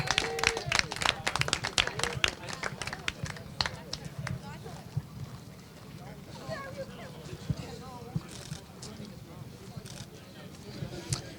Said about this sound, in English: In 3rd place, a huge round of applause, please, for KR Sports 91